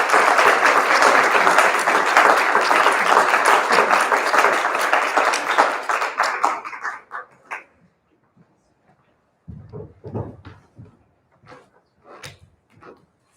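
Dense audience applause at a poetry reading, loud steady clapping for about six seconds that thins out and stops, followed by a few scattered faint claps and small room noises.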